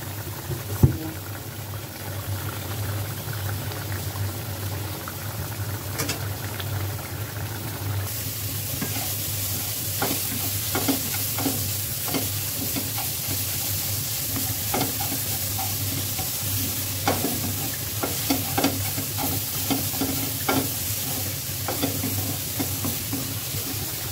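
Pabda fish cooked bhuna-style with tomato is gently stirred in a pan, with a steady low simmering sizzle throughout and scattered close scraping and tapping strokes of a spoon growing more frequent in the latter part.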